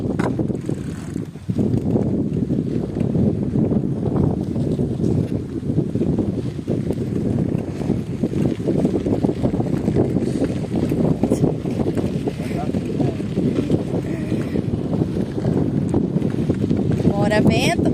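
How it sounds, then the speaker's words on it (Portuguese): Strong wind buffets the microphone while cycling on a red dirt road, a loud continuous low roar with gusty rumble running through the whole stretch, with mechanical rattle mixed in. "Olha o vento."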